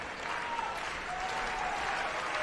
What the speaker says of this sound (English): This crowd will urge on Isaiah Campbell, trying to strike out the side